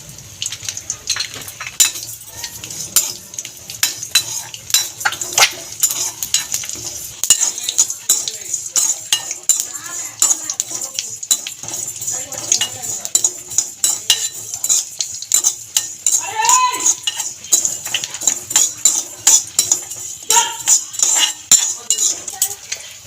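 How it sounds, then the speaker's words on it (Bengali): Whole coriander, fennel and cumin seeds dry-roasted in an empty wok for olive pickle spice, stirred with a metal spatula in a rapid, continuous run of close scraping clinks and rattles. "নেড়ে ছেড়ে গোটা মশলাগুলো ভেজে নিয়েছি"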